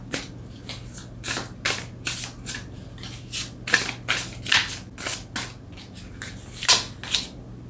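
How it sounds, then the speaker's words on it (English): Tarot cards are shuffled by hand in a quiet room, giving a series of soft, papery riffles and slaps in irregular bursts, close and clear with no talking. "let's go ahead and get a few cards to go with these"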